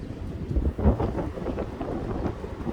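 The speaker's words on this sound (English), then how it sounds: "We're getting wind gusts up to 60 miles per hour" Strong, gusty wind blowing at up to 60 miles per hour during a winter storm, a steady broadband roar that swells in heavy gusts and buffets the microphone, with no voices.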